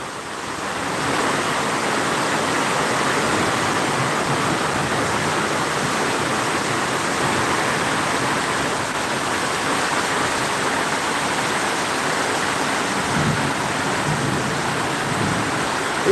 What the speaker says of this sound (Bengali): প্রচুর ঝড় বৃষ্টি হচ্ছে বৃষ্টি হচ্ছে মুসলদারে